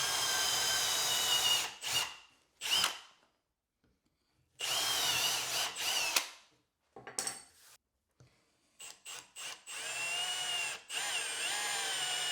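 A power drill bores into a wooden workbench base during a split-top Roubo build, in several loud whirring bursts of varying length separated by silences, with short clicks and stops between.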